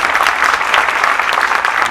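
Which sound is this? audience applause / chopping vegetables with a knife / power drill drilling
audience applause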